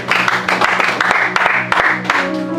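A church congregation claps through a French-Russian worship service, a dense and steady wash of applause with a low sustained tone beneath it, alone and without speech.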